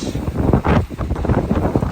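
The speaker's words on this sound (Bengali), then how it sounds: "জাস্ট অবস্থা দেখেন এখানে কি পরিমাণে বাতাস" Strong wind buffets the microphone in loud, uneven gusts, a rough roaring rumble that rises and falls throughout.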